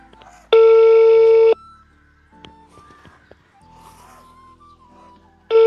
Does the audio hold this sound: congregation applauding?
no